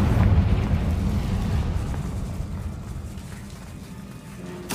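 A Confringo fire-blast spell explodes in the Hogwarts Legacy video game, giving a loud, rumbling blast with heavy low-end boom that sustains and slowly fades over several seconds, with a sharp crack at the very end.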